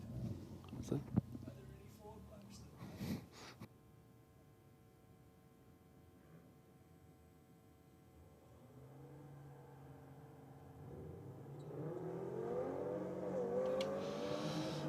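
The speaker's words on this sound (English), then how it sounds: "a nice launch from the BMW in the rocket lane" BMW and Subaru cars launching on a drag strip, the engines heard faintly in the distance as a rising roar that builds toward the end, with talk over a loudspeaker early on.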